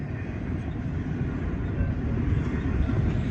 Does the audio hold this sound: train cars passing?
yes